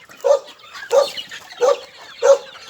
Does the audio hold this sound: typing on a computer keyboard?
no